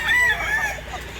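Fighting stag rooster crowing close by at a cockfighting venue in Mantalungon, Barili, one strong drawn-out call over faint background chatter.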